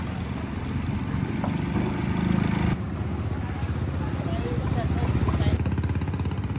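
A motorcycle tricycle's engine runs steadily while travelling along a flooded road in Macabebe, Pampanga, giving a continuous close, rough droning hum with a slight change in tone partway through.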